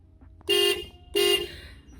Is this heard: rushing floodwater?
no